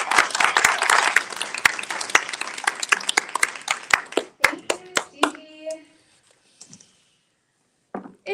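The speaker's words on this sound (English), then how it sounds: "Please give a round of applause to Safiyah." Audience clapping for a speaker, starting as a dense burst that thins into scattered individual claps and dies away to near silence, a few last claps at the end.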